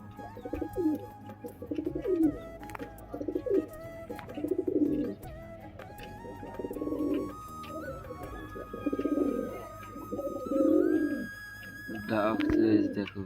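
Pigeons coo close by in repeated soft, throaty rolling calls, several overlapping in irregular bursts with brief pauses between.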